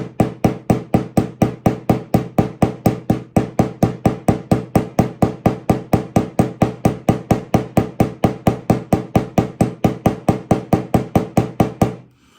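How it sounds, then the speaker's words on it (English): A small pin hammer taps pins into the scales of a CV Heljestrand No. 6 straight razor, giving a long, even run of crisp, regular knocks at close range, about four per second, with no talk. "then I take the pin hammer again and start to pin it just gentle."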